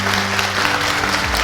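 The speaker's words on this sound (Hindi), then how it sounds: "ये होती है ताली सर" Audience clapping at a business training seminar, a brief burst of dense, steady applause heard up close.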